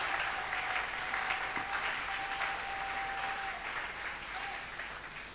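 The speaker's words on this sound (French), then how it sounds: "Acclamons le Seigneur" A church congregation claps together during a service, a dense, steady patter of many hands that holds for several seconds, heard at a moderate distance.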